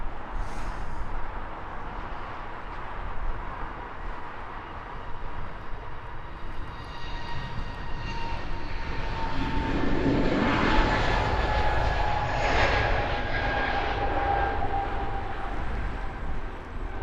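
A jet airliner taking off at Heathrow Airport, a steady loud roar of engines that builds and swells through the middle before holding on, heard from a distance with no talk.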